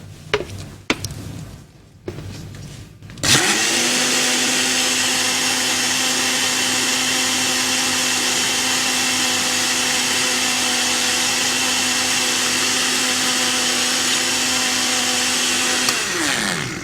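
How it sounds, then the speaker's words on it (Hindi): A kitchen blender whirs steadily as it mixes lassi made with milk, a loud continuous motor drone lasting about thirteen seconds after a few brief clunks, then cutting off. "और इसको हमने करना है ब्लेंड।"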